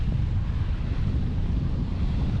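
Gusty wind buffets the microphone while sailing solo, a loud, constant low roar of rushing air with water and boat noise mixed in and no talking.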